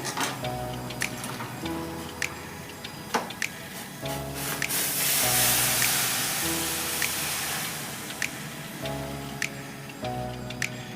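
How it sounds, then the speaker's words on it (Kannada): A burst of hissing and sizzling as hot water hits a hot pan of spices for vegetable Maggi noodles, rising in the middle, with steady rhythmic music and light ticking throughout. "ಬಿಸಿ ನೀರು ಹಾಕೋತಾ ಇದ್ದೀನಿ."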